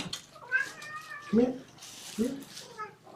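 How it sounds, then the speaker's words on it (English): Small kittens meow repeatedly at bedtime, giving several short, close, high cries spread through the moment, while a person speaks softly over them. "Meow, meow, meow."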